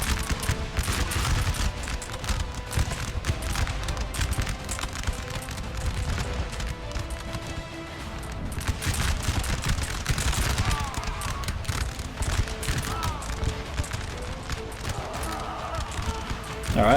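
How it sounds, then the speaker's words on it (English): Musket volleys crackle and roll through a Total War: Napoleon battle at Waterloo, dense bursts of massed gunfire layered over constant battlefield din, loud and continuous, with a voice talking over parts of it. "Oh, now they're firing."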